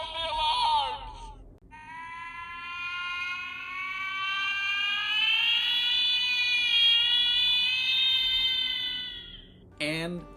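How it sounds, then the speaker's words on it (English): A 2023 Hallmark Christmas ornament plays an electronic alarm sound. After a short wailing burst, a long rising siren-like tone holds loud and steady for several seconds, then a brief burst of other sound comes at the very end. "It's time to sound the alarms!"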